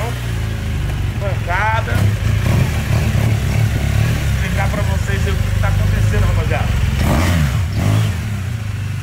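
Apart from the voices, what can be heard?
motorcycle riding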